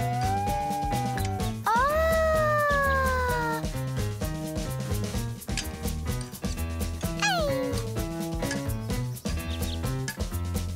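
A cat stuck in a tree meows twice over a steady, loud musical backing, the drawn-out cries standing out clearly above the rhythmic music.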